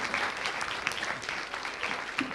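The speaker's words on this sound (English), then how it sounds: "please once again give a big round of applause" An audience at a design and user experience summit gives a steady round of dense clapping that continues evenly throughout at moderate loudness, with no voices.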